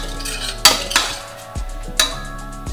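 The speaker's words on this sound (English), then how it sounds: "Give that a stir." A spoon clinks and scrapes against a metal pot in a few sharp, close strikes, with a brief rattle of stirring between them and no voices.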